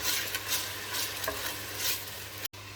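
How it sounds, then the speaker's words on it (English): Chopped spinach cooking in a pan with onion, garlic and coriander, a soft continuous sizzle with several spoon-stirring scrapes, ending in a brief cut of silence; no voices. "I'll add the chopped spinach and cook it together"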